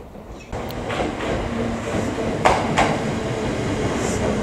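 A Kintetsu Osaka Line electric express train rolls into Matsusaka Station with a steady rumble and rhythmic wheel clacks over the rails, growing slightly louder; a faint high squeal rises near the end.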